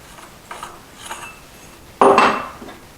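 A few light clicks and taps from handling a Slik carbon fiber tripod's center rod plug, then a louder metallic clunk as the part is screwed back in.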